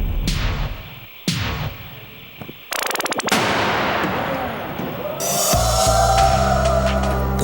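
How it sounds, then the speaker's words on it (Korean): A car's passenger-side airbag bursts open in a sudden sharp bang that launches a water bottle off the passenger seat, preceded by a few loud impacts and followed by a hissing, rattling tail, with voices faintly audible. "조수석 앞에 물통을 올려놓고 에어백을 터뜨려 보겠습니다."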